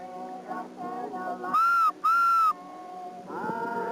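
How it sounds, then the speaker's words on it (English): A child blows a handmade whistle at a 4-H wagon train, two short shrill toots with a brief gap between them, heard clearly between quieter background voices. "It's a whistle."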